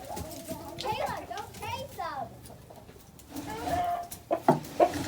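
Chickens and a rooster inside a coop cluck and call in bursts, a few sharp clucks gathering toward the end, while a person speaks nearby.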